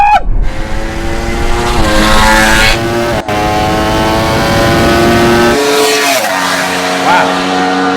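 Ducati motorcycle and Audi car racing a standing quarter mile, with a loud, sustained high-revving engine roar that climbs through gear changes and then shifts pitch as the run finishes.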